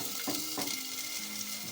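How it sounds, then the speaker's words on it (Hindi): Yogurt frying in a pan for a Pakistani-style fish dish, a continuous soft sizzle with a couple of light stirring scrapes, fairly quiet and close, no voices. "ये दही जो मैंने डाला था ये देखिए ये भुनने पे आ गया"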